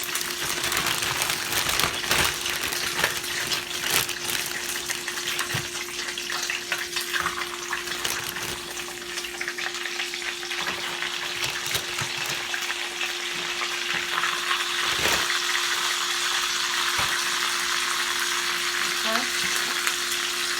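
Hamburger steaks frying in a pan for a soul food dinner, a steady close sizzle and crackle running continuously without pause, with occasional louder spatters and no talking.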